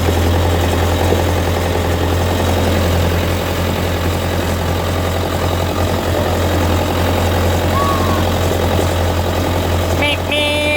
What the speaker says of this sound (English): Got the old case backhoe.